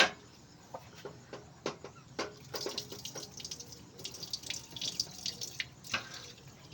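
A kitchen tap runs into a sink while a small frying pan is washed, with steady water flow, splashes and clinks of the pan close by and no talking.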